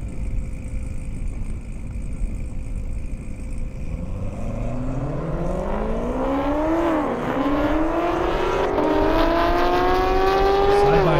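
A Dodge Charger Hellcat and a Camaro ZL1 race side by side on an airstrip: engine notes rise sharply as both accelerate hard, with gear-change dips and climbing pitch, growing louder as they approach.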